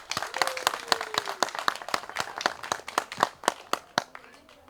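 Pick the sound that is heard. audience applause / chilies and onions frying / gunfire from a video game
audience applause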